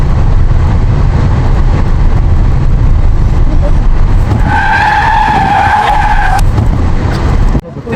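A car skids to a halt in a horror short film, a loud sustained tire squeal rising over a steady rumble for a couple of seconds before cutting off abruptly near the end.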